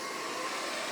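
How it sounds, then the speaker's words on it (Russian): A Kitfort KT-567 robot vacuum cleaner runs with a steady, close, broadband whirring hiss that stays even throughout, with no voices. "Вот у нас очень голодный робот-пылесос получился."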